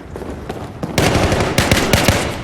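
Rapid gunfire during close-quarters battle training inside a building, starting with scattered shots and then a loud, dense string of bursts and single cracks that continue to the end.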